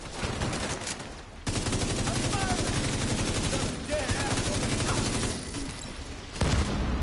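Grenade launcher and automatic gunfire in The Division 2 during the Lincoln Memorial mission, dense rapid bursts of shots with short pauses, loud and close, with a voice talking over parts of it.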